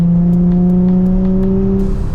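A Nissan 350Z engine screams at high RPM above 5,500, a loud, steady, close droning wail with strong harmonic tones that climb slightly before easing off near the end, with no talk over it.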